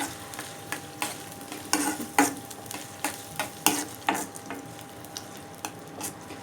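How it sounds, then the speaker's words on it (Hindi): Onions brown and sizzle in hot oil for a Peshawari karahi, crackling with a steady frying hiss, occasional sharper pops and stirring clatter, close by. "सबसे पहले आप प्याज ब्राउन करें।"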